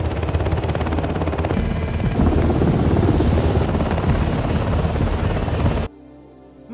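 A helicopter used in a SWAT raid on a gangster compound thunders loud and close with steady rotor and engine roar, then cuts off abruptly near the end, leaving a quieter background.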